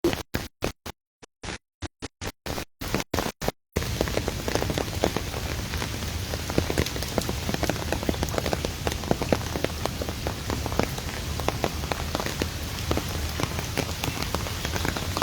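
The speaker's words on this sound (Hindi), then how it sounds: "मूसलाधार बारिश हो रही है" Heavy rain pours down steadily in Lahore in a dense, continuous patter, preceded by a few seconds of choppy, broken-up bursts of the same rain.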